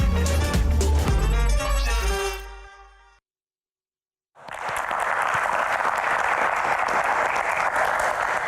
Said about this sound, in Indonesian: Tepuk tangan lagi teman-teman.